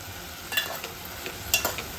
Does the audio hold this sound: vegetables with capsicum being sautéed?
yes